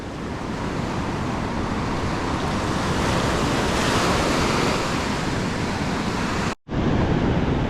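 Ocean waves breaking into white water along a beach, a steady loud roar of surf with wind noise and one brief dropout near the end, no talking.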